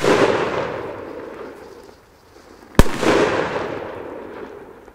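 A loud Big Bang 2G Polenböller firecracker blast cracks sharply midway, its echo rolling and fading after the tail of an earlier boom.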